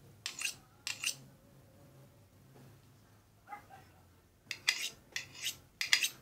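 A knife blade is sharpened against the rough unglazed ring of a mug, giving short scraping strokes close by, first a pair, then a quiet spell, then a quicker run of several strokes.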